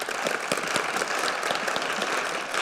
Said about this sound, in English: Yes, you may applaud, that's fine.